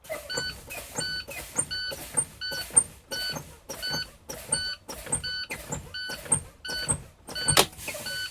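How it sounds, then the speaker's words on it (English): Class A truck air brakes pumped repeatedly on an automatic CDL rig, giving a steady series of about a dozen sharp hissing bursts with brief valve clicks, close and loud, with no talking. "I'll keep pumping my brake till 20 to 45 psi to make sure my emergency spring brakes and buttons do work and they pop out."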